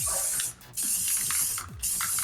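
A spray paint can hisses in three bright bursts with short pauses between them, close and loud, with faint clicks and rattles of the can as spray paint city art is made.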